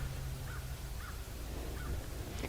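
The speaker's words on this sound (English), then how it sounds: "There is one crow and one vulture, and other than that, the sky is empty." A single crow cawing in a quiet, otherwise empty sky, with a few faint, distant caws spaced apart over a steady background hiss.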